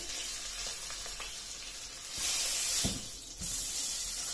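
A marinated pork chop's fat sears hard in a hot pan, giving a loud, steady sizzle and hiss that swells and drops as the meat shifts.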